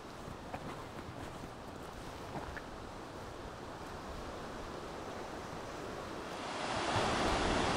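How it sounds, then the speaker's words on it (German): Steady rushing water roars continuously from the swollen, fast-flowing Kyll river in the Eifel, swelling louder toward the end, with a windy, surf-like hiss and no voices. "Die Kill ist zum reißenden Fluss geworden, zum Eifel Amazonas."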